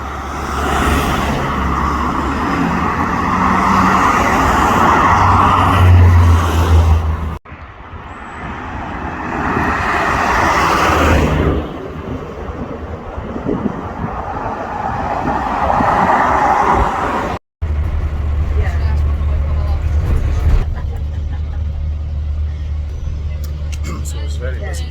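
Steady, loud road rumble from inside a double-decker X47 bus travelling between York and Hull, a broad engine and tyre roar with two brief cutoffs, under a voice talking.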